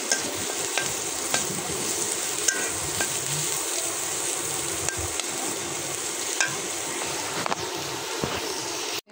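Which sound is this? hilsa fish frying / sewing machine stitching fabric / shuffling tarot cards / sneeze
hilsa fish frying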